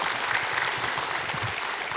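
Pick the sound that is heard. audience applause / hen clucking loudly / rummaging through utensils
audience applause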